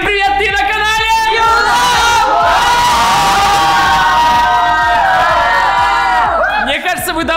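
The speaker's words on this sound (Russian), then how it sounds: "Мне кажется, вы давно не слышали такого позитивного крика, такого шума." A group of people at a challenge game of hide-and-seek in a house shout and scream excitedly together in a loud, sustained burst of whoops and high-pitched yells that fades near the end.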